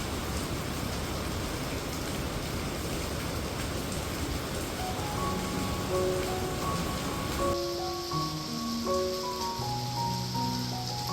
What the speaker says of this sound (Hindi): और बारिश इतनी तेज़ हो रही है ना